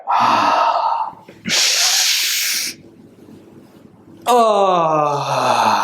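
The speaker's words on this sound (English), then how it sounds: "Inhale up, exhale down." Deep inhaling and exhaling during a chi kung breathing exercise, heard as long loud airy breaths with a pause between, followed by a drawn-out voiced exhale with a moaning tone.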